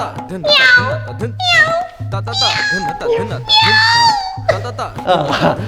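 A man imitates a cat, letting out several drawn-out whiny meows in a row, loud and close, with short pauses between them.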